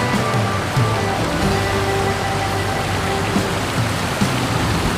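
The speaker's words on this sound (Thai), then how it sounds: "ด้านนี้เป็นน้ำตกวอเตอร์ฟอลครับ" An indoor waterfall about six metres high beside a walkway, giving a steady, loud rushing splash of falling water with no pauses, heard close and alone.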